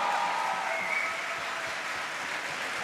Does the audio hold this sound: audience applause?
yes